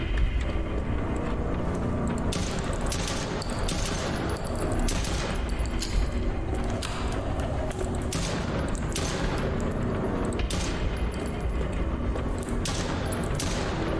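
Sustained automatic gunfire in a horror hospital video game, loud continuous volleys with sharp repeated shots over a heavy rumbling backdrop, no talking.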